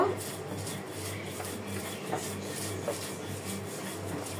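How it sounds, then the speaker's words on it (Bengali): Dried fish (shutki) being ground by hand for a bharta, making a steady, close scraping and rubbing over a low constant hum, with a couple of soft knocks and no voices. "এখন আমি শুটকিটা আগে বেটে নিব।"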